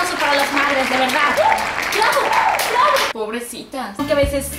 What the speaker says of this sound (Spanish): Un aplauso para las madres, de verdad.